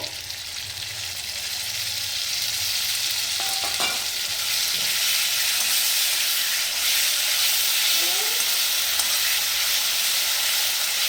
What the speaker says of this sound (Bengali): ভালোভাবে আমি মশলা কষিয়ে নিচ্ছি